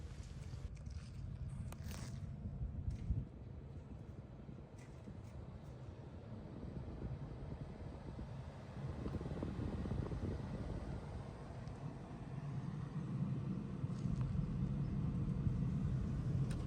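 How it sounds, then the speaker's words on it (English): The blower motor fan of a BMW 5 Series E60 runs as a steady low whooshing hum, swelling slightly partway through, with a few faint clicks early on and no speech. "And right now, from this moment, the blower motor it's turned on."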